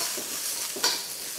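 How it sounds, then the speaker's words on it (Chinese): Sugar snap peas being stir-fried in a hot, lightly oiled wok: a steady soft sizzle with quick scraping and tossing strokes of the spatula, heard up close. "我们再下入这个甜豆啊，煸炒，先把这个甜豆炒香"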